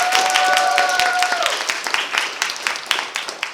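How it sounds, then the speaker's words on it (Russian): Audience applause at a young scientists' science slam event, dense clapping throughout with a sustained tonal note in the first second and a half, loud and close. "Еще раз всем нашим участникам бурные овации."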